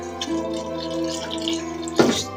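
Water is poured into a cooking pot holding sweet potatoes and yam, trickling and splashing steadily, with a louder splash near the end and no talking.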